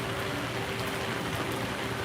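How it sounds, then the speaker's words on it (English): Rain falls steadily at an amusement park, a dense, even hiss of drops with a faint constant hum beneath, no voices present. "We are getting rained on"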